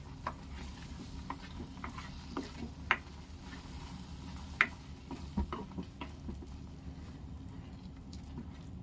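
Besan ladoo mixture is stirred in a pan with soft scraping and light ticking taps from the spoon, steady and quiet, with a faint sizzle underneath.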